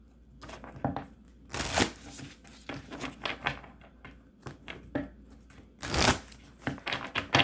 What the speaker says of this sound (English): I'm reshuffling these cards.